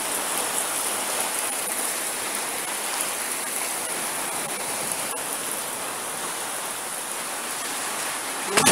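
Heavy rain pours steadily during a storm, a dense, even hiss of water beating on surfaces near a house with a pool, loud and unbroken throughout with no voices.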